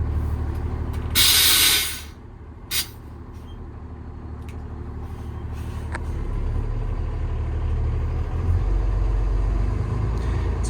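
A 2017 Peterbilt 337 service truck with a PX9 350-horsepower engine idles nearby in a low steady rumble, with a short burst of hiss early on and a few clanks, no voices.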